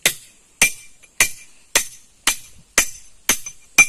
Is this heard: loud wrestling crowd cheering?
no